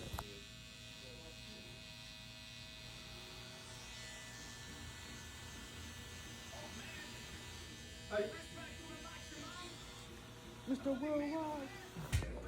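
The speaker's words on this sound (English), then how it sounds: "right here, I did hit it with the shaver right under where I cut with that 0" Electric shaver buzzing steadily while trimming hair during a burst fade haircut, a continuous close hum with a few louder bursts near the end.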